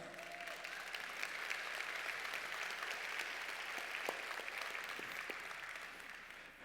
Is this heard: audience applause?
yes